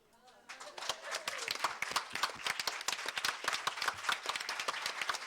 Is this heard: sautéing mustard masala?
no